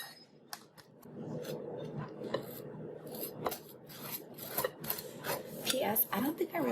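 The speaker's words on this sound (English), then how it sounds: "Okay, so I'm going to butter my bread." A knife spreads butter on bread in a home kitchen, faint scraping and rasping strokes in irregular rhythm, close but quiet, with light clinks of utensils.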